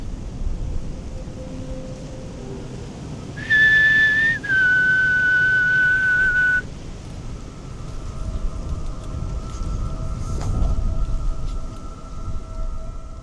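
A sustained two-part whistle sounds out in the woods at night, loud and clear for a few seconds, then a fainter steady tone follows over rustling wind noise; no speech.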